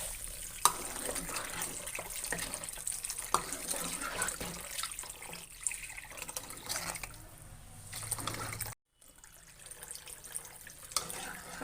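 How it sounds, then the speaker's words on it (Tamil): Water runs and splashes steadily into a cooking pot of mutton curry, a continuous watery pour with faint background clatter and a brief cut near the end. "தண்ணியை நான் ஊற்றிக்கிறேன்."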